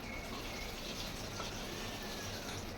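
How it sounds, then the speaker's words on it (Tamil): Tap water runs in a steady, faint rush as food is rinsed under it in a home kitchen, with no talking. "ஃபஸ்ட்டு நான் தண்ணி விட்டு பைப்பில் அலசி எடுத்துக்கிறேன்."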